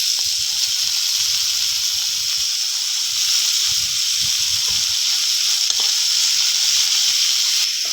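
Water spinach greens tossed into a pan of shallow-fried prawns with turmeric and salt give a loud, steady oil sizzle and hiss throughout, broken by soft low knocks of stirring.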